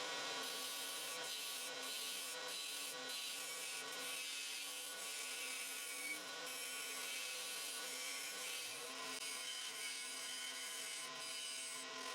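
A round carbide cutter scraper deepens the hollow of a maple and mahogany box on the lathe, giving a continuous, even hiss of wood being scraped, close and steady throughout with no pauses.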